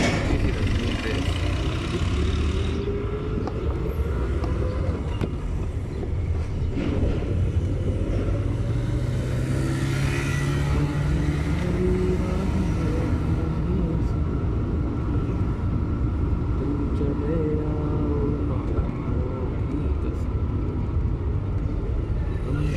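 A manual car's engine rumbles and winds down as the driver eases off the throttle, a low varying drone with falling tones, steady and close beneath a driving instructor's voice.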